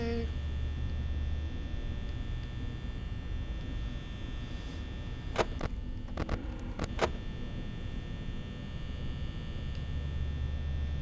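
Steady low electrical hum of the office fans in Five Nights at Freddy's, droning evenly throughout with a few brief sharp clicks in the middle.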